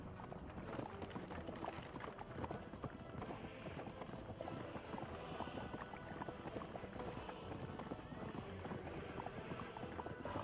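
Coal-hauling horses in the city-building game Workers and Resources, a dense run of quick hoof clip-clops at low volume under faint background sound, with no voices.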